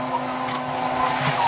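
A Kobalt cement mixer's electric motor runs steadily, a loud, close, continuous droning hum with a faint whine, no talk over it.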